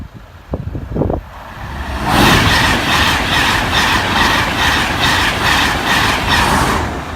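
A British Rail Class 82 passenger train rushes past close by at Bathley Level Crossing on a windy day, a steady roar with rhythmic clattering of wheels and gusting wind noise, after a few brief knocks at the start.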